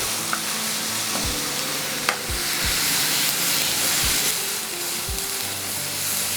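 Homemade spice paste for Lahori aloo sizzles steadily in a hot pan, a dense continuous frying hiss broken by occasional soft stirring knocks and light crackles.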